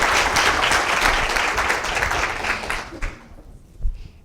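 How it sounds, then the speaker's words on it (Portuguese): Audience applause welcoming a speaker at a lecture on racial discrimination in Brazilian education, steady and fairly loud clapping from a large room that fades out after about three seconds, leaving a few scattered claps and room noise. "Peço uma salva de palmas para ele."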